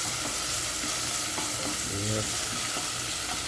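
Garlic and onion sautéing in a pan for baked mac and cheese, a loud continuous close-up sizzle with stirring throughout; a voice briefly speaks over it.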